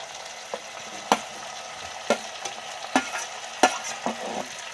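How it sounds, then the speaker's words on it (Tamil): Tomato and onion sauté in a pan for a spicy Tamil fish curry, with a soft continuous sizzle broken by several sharp spatula scrapes and knocks at irregular intervals, close and without speech. "தக்காளி வெங்காயம் நல்லா வதங்கணும்"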